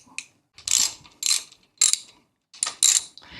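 A ratchet with a 10mm socket loosens top triple tree bolts on a Suzuki DRZ400S, heard as five short, close bursts of quick clicking separated by brief silences.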